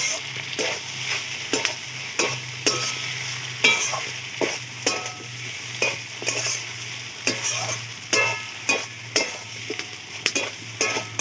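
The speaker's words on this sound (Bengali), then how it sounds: "মাংসগুলো খুব ভালো করে কষিয়ে নেওয়া হয়ে গেছে" Chicken pieces being stirred and sautéed in a pan for a village-style curry, with a steady close sizzle under repeated scraping strokes of a spoon against the pan, roughly one per second throughout.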